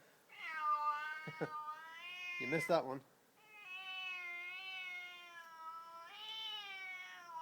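A cat yowls in long, drawn-out, rising and falling meows, loud and close, with brief sharp sounds between them and someone speaking over the cries.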